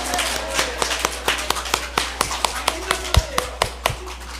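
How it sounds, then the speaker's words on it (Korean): A church congregation at a Korean choir and praise team dedication service claps in steady rhythmic unison, sharp evenly spaced beats close by. "옆 사람에게 당신은 최고예요 라고 박수 한번 크게 올려드리죠."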